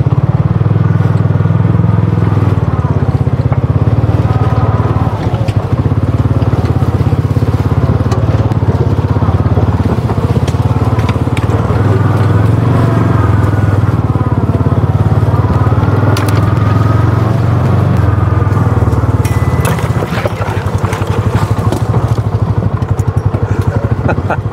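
A 2024 Kawasaki Mule Pro MX side-by-side engine drones loud and close as it crawls over a rocky rock garden, with rocks crunching and clattering under the tires throughout.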